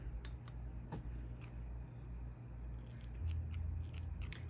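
Scissors snip through crochet yarn in a few quiet, sharp cuts close by, set against a faint low background hum and no voices.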